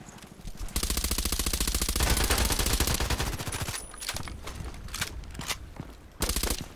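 Video game gunfire in a sniper shooter: long rapid-fire bursts of automatic shots, loud and close, broken by short pauses and sharper single cracks, with no talking.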